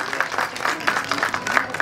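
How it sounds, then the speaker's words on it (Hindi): Audience at a school birthday celebration for the chairman applauding steadily, a continuous wash of many hands clapping close by for a short stretch with no break. "एक बार जोरदार तालियों के साथ स्वागत करते हैं सर का"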